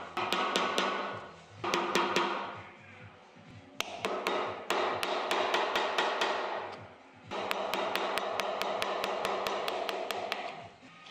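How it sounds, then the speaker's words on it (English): Chisel being struck to cut out holes in black limba wood for the laces of a wooden football, sharp repeated taps in quick runs separated by short pauses, close and crisp, with no voices. "then I simply chiseled out the hole."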